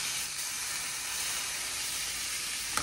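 Thick steaks searing on their edges in a hot pan, a steady, close, continuous sizzle and hiss that holds evenly throughout with no talking.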